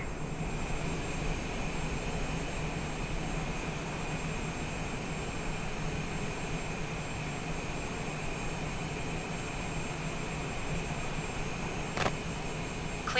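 Cessna Longitude business jet taking off from runway 22 right at JFK, a steady, loud engine roar with broad rumbling noise and a high whine held evenly throughout, heard from inside the aircraft without voices.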